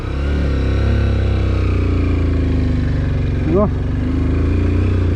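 A motorcycle engine drones loud and close while riding a rough mountain trail between Deurali and Markhu, holding a steady rumbling note with a brief voice breaking through partway.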